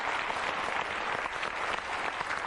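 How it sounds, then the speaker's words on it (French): A game show studio audience applauding contestants, a dense, continuous wash of clapping from many hands filling the room throughout, with no talk heard over it. "Allez, on les applaudit une dernière fois."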